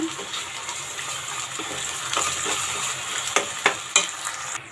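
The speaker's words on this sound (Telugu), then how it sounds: "మసాలా వేసేద్దాము వేసేసి బాగా కలిపేసుకుందాము" Masala stirred into browned onions frying in oil in a pan for chicken masala curry, a steady soft sizzle with light scraping and a few sharp clinks of the spoon near the end.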